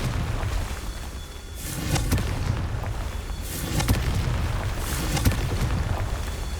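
Confringo blasting spells explode in the Hogwarts Legacy video game, three sharp booming bursts spaced about 1.5 seconds apart, each with a crackling tail over a low rumbling bed.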